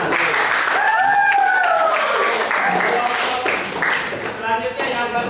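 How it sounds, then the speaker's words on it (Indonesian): Classmates in a vocational high school classroom clap together, a steady spatter of applause with voices calling and cheering over it, then thinning out near the end. "Tepuk tangan dulu, teman-teman."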